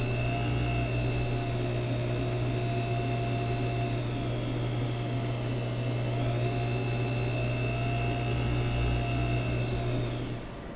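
A small watchmaker's lathe runs in a steady, close whine with a low hum and high tonal ringing while a graver cuts a watch jewel setting near the rim. The drone holds evenly throughout, and no one speaks.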